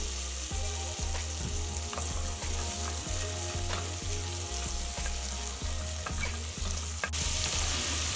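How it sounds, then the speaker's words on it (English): Chopped onion sizzles in a pan of butter and olive oil as the base for leek and potato soup, a loud continuous fry with regular stirring knocks from a utensil. "In the butter, we add some onion. We're going to add a little bit of olive oil as well."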